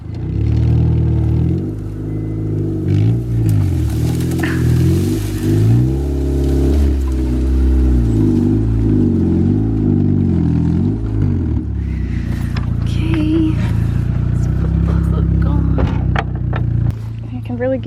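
A Honda Del Sol's engine revs and strains loudly and continuously as the car is driven out of a field, pitch rising and falling with throttle, while people talk over it throughout.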